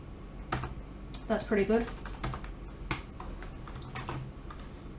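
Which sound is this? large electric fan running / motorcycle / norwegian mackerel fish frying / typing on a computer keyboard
typing on a computer keyboard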